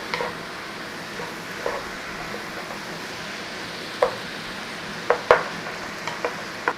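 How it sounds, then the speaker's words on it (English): Minced beef sizzles quietly in a pan while a utensil stirs and breaks it up, giving soft steady frying noise broken by several sharp scraping clicks near the end; no one speaks. "So just keep turning your meat over in there."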